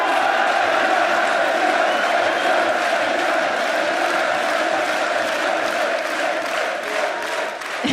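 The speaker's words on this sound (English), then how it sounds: "Thank you, everyone, for cheering for us." A large esports arena crowd cheers and roars continuously for a team at a tournament, a dense, loud, sustained wash of voices throughout.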